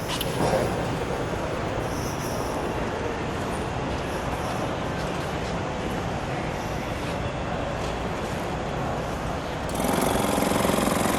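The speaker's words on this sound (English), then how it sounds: "The noise there is my extra vacuum pump to work my brakes." A 1972 Chevrolet Corvette Stingray engine runs with a harsh, steady mechanical rattle and hum from an added brake vacuum pump throughout, getting a bit louder near the end.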